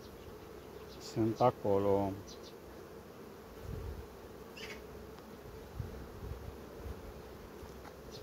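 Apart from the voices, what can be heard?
honey bees buzzing around a hive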